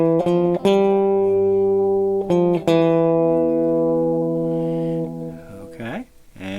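A guitar plays through the Polychroma harmony effect of a Meris LVX modular delay pedal. A few plucked notes ring with stacked, sustained pitches that slowly fade, followed by a brief wavering tail.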